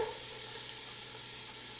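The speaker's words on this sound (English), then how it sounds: "I love to hear that sizzle." Steady, close sizzling of onions frying in melted butter in a hot pan, a bright continuous hiss with faint crackles and no voices.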